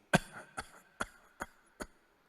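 Five short, dry coughs come at a fairly even pace and fade quickly, quiet and close by. A single person is imitating a dry, tickly cough.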